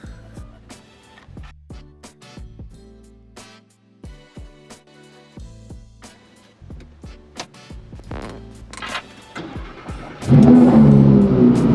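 A 2020 Lamborghini Huracan Evo V10 engine cold start: rhythmic cranking pulses, then it catches and flares into a loud, roaring rev at the end, close by indoors.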